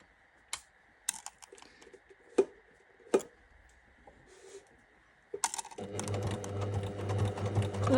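Embroidery sewing machine stitching a personalized health-record cover, starting after a few sparse clicks and needle taps with a loud, steady rapid mechanical whir that runs to the end.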